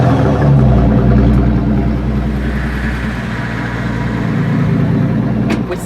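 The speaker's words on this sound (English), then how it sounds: "This is a V12 bit turbo Maybach engine" A Maybach Exelero's V12 biturbo engine of 700 horsepower idles loud and close, a steady deep rumble that holds evenly throughout, with a brief rise near the start.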